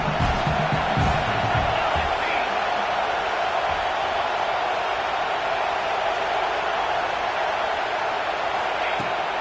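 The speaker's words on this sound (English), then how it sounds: "how nice is it to have the home crowd going absolutely bananas?" Home crowd roaring at a football game, a dense continuous wall of cheering and shouting that stays loud throughout, with faint whoops rising out of it.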